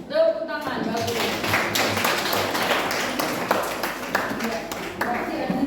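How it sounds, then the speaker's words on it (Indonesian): Classroom of pupils clapping hands together at a teacher's prompt, a dense run of claps lasting several seconds that fades toward the end, with a voice heard briefly at the start. "Tepuk tangan, bagus."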